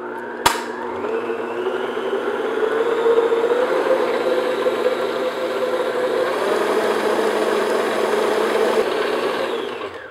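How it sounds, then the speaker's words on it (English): A stand mixer whirs at medium-high speed, beating ginger cookie batter in a steady, loud, continuous drone after a sharp click at the start, with no talking. "I'm just going to beat this on medium-high speed"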